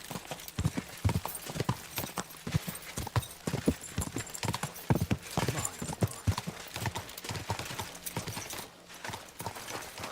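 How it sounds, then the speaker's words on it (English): Steady clip-clop of horse hooves at a brisk trot in the video game Kingdom Come: Deliverance II, continuous and fairly close, with a brief pause near the end. "Watch out with that horse!"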